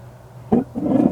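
An RV water heater's main burner lights outdoors on a windy day with a sudden close, low whoosh, then after a brief dip settles into a steady, loud roaring flame.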